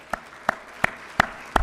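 A lone pair of hands claps five times at an even pace for event sponsors, crisp and close, with quiet between each clap.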